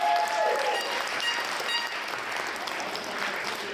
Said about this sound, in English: Can we get a round of applause for all the gurus?